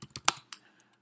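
Computer keyboard keys clatter in a short burst of several quick, close presses while code is typed, the strongest stroke near the middle and a few lighter taps trailing off.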